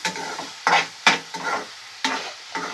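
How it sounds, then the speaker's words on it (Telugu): Egg and drumstick curry stirred in a pan: about five distinct scraping strokes of a spoon through thick, sizzling mixture, loud and close, with brief pauses between them and no talking. "ఇప్పుడైతే మళ్ళీ కలుపుతున్నారు గైస్ ఇప్పుడు దాకా అయితే కొంచెం దాన్ని ఇప్పుడైతే మళ్ళీ కలిపేస్తున్నారు"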